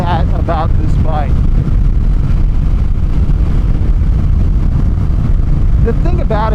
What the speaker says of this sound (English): hear the sounds of that parallel twin just rocketing underneath you